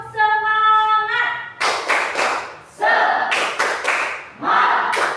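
A school class does the tepuk semangat routine, several bursts of rhythmic group clapping and thumps in a classroom, preceded by a brief tonal chime, with pauses between the clapping sections.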